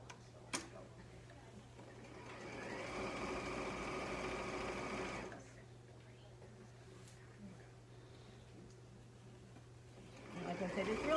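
A sewing machine stitches a pillowcase seam about a half inch wide, a steady close whirring run lasting a few seconds in the middle, with quieter stretches before and after.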